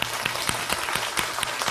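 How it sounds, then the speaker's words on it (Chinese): Audience applause fills a concert hall during a Cantonese nanyin music evening at Sha Tin Town Hall, a dense continuous patter of many hands clapping at steady volume. "希望大家同我用掌声多谢晒佢哋。"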